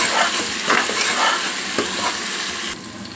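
Ginger garlic paste frying and sizzling in a pan for a Telangana-style goat head curry, a continuous loud hiss with several scraping stirs, close and unbroken, no voices.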